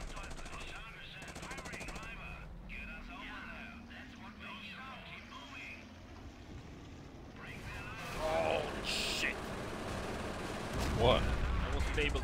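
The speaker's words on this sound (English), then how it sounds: "You're taking enemy flak fire." Flak and gunfire from the war strategy game Company of Heroes rumble at a distance under someone talking, followed by louder bursts of shots near the end.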